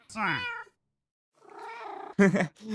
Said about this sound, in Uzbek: bu shunchaki mushuk ekan